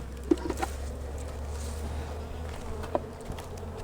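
Honey bees buzz softly around an open hive during a spring beekeeping inspection, a faint continuous drone with a few brief louder passes close by.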